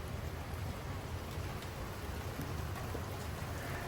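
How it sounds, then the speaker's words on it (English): Steady rain pours down at the start of a thunderstorm in Frisco, Texas, with 20 mph wind gusts, a dense even hiss of drops on surfaces heard from a porch, continuous and moderately loud with no talking. "There's the rain."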